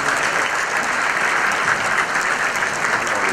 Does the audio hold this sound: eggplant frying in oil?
no